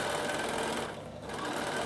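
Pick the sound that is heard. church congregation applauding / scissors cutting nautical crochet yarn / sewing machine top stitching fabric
sewing machine top stitching fabric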